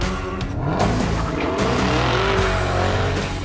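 A 2018 Chevrolet Camaro ZL1 1LE lapping Area27 Raceway in British Columbia, its engine loud and close with rising and falling revs and a brief tire squeal, steady throughout without voices.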